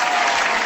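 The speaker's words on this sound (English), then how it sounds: "Give a round of applause." A studio audience at a live podcast taping breaks into applause, a dense, steady wash of clapping that stays loud and even for the whole short burst, with no voices on top.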